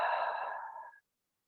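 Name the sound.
slow deep breathing, inhaling and exhaling during yoga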